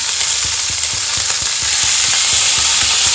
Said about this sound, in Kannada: ಬಾಣಲಿ ಬಿಸಿ ಆದಮೇಲೆ ಸ್ವಲ್ಪ 1-2 ಸ್ಪೂನ್ ಅಷ್ಟು ತುಪ್ಪ ಹಾಕ್ತಾ ಇದ್ದೀನಿ